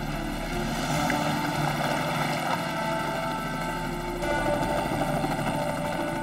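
A helicopter hovers over river water during a rescue, its rotor and engine making a steady, loud, pulsing drone throughout without any speech.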